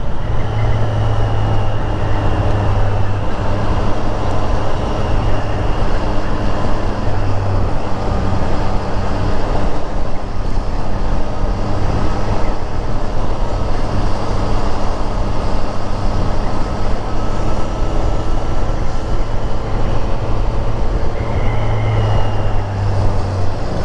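A 2024 Triumph Street Triple 765 RS engine hums steadily and loudly while riding, a continuous drone with steady wind rush and little change in pitch.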